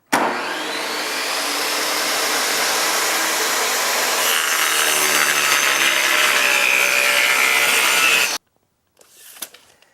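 A table saw cuts a rabbet in wood, its blade whining loudly and continuously for about eight seconds before stopping abruptly, followed by a brief faint clatter.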